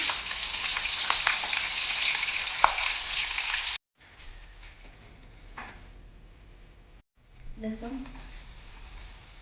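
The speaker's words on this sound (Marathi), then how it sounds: "आता मिरची मिरची छान क्रिस्पी भाजायची" Green chillies fry crisp in hot oil for a spiced chivda snack, giving a loud, steady hiss that cuts out abruptly twice, with quieter sizzling and a few kitchen clatters between.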